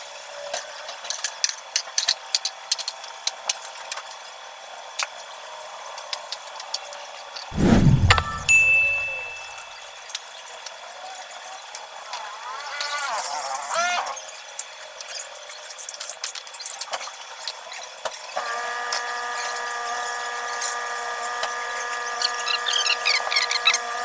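A Bosch AHM 38 G manual push mower works through overgrown grass in a Thai yard, giving scattered ticking clicks and short whirring bursts of cutting between quieter pauses, with outdoor ambience behind.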